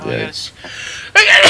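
A sneeze bursts out near the end, loud and close, after a brief stretch of casual talk during a Minecraft survival play session.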